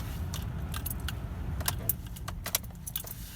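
A car being parked, its engine idling low and steady while keys jangle and clink in brief bursts close by, with no talking.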